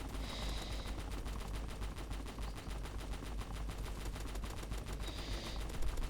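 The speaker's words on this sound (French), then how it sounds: "Là, t'as juste à tirer dans sa voiture." Rapid automatic gunfire in a Roblox game fired at a car, a dense, continuous rattle of shots lasting throughout at steady loudness.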